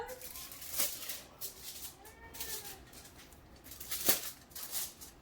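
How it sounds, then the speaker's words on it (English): An old cat meows a few times at a moderate distance in a kitchen, drawn-out calls separated by pauses, with a couple of sharp clatters in between. "You can hear my old timer cat meowing at me."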